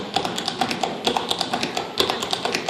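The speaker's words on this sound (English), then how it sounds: "Like if I'm doing the Tennessee walking step, I might just want to take out the sound my right toe is making." Tap dancing feet doing the Tennessee walking step, a rapid, even patter of crisp metallic taps from toes and heels, close and clear with no voices.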